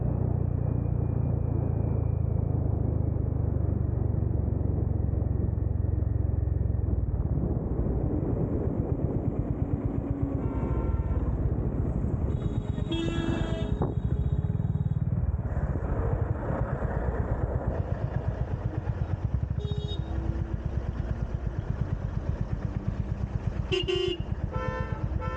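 Wind roar and engine drone from a motorcycle ride on a hot day, steady and close, with passing traffic and a few horn toots breaking through over the ride.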